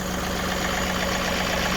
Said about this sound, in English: move the tractor back a little bit, put your hand on the other pedal, move it forward a little bit